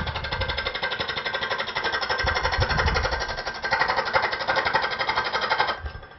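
A wood lathe spins a pepper mill blank while a tool cuts its shape, producing a loud, continuous rattling hum with chatter that rises and falls in bursts and then eases off near the end, with no speech.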